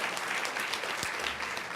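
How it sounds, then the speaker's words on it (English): Applause from a board meeting audience honoring award recipients from Lincoln, a steady, dense round of clapping filling the room without a break. "Let's give all of them a big round of applause."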